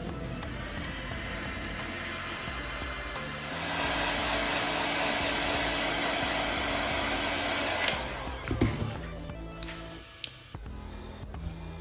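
An airbrush hisses steadily while spraying paint onto a small Bandai Millennium Falcon model, the airflow growing stronger midway before a few sharp clicks and knocks near the end.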